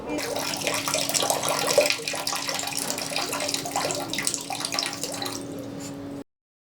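Water running from a leaking tap, a steady splashing and gurgling flow with a constant hum beneath, under a person speaking, cutting off abruptly near the end.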